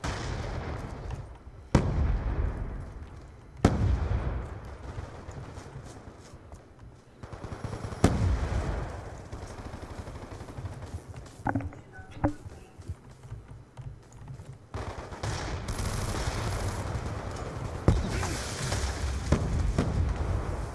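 Light machine gun fire in a video game, sustained rattling bursts punctuated by a few sharp, loud shots, with other game noise underneath and no clear talk.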